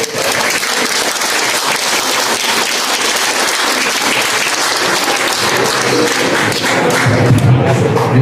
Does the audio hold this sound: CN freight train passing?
no